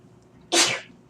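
A single sharp sneeze breaks out in a quiet classroom, loud and close, with a brief explosive burst that fades quickly.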